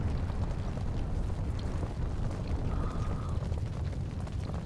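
An enemy airship exploding in the alpha build of the sky combat game Cloud Pirates, a dense continuous roaring rumble with low booming weight, steady and loud without a clear single blast.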